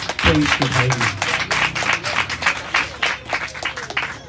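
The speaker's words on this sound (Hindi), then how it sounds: "आइए पाकवी के लिए जोरदार तालियां।" Loud, dense applause from a church congregation after a Hindi-Urdu sermon blessing, a steady wash of many hands clapping throughout, with a voice speaking over the start.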